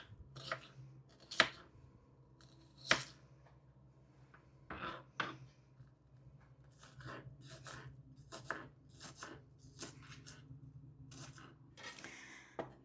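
A knife cuts onion into small pieces on a board for a pasta salad, giving scattered sharp chops with irregular gaps and light scraping between them, close up with no talk.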